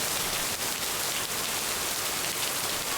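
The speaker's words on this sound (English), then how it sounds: "Oh, we're in the parking lot? In the rain?" Rain falls steadily on a parking lot in the game Lake. A soft, even hiss of drops keeps up throughout, with no talking.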